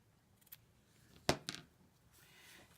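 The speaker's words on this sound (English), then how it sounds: "we use our scissors and just pull that back and clip that off" Scissors snip off a folded dog-ear corner of paper in a quiet room: a soft tap, then one crisp close cut followed by a smaller second click, then near silence.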